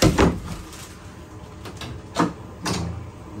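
A few soft knocks and clunks of a cabinet door with a magnetic lock being opened and pushed shut, close by, with quiet pauses between.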